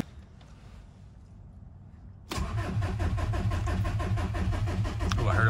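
Swapped VW TDI diesel engine in a car cranking quietly with a low starter churn, then catching abruptly and settling into a loud, steady clattering diesel run.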